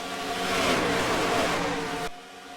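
Race car engines roar loudly in a sim racing video game at Auto Club 400, a steady, dense, high-revving drone of several cars close together that cuts off abruptly near the end.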